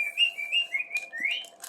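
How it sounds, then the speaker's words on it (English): A pet bird whistles a short run of rising and falling chirps and whistle notes, close and fairly clear, with a brief broadband rustle near the end. "No, that's what a bird says."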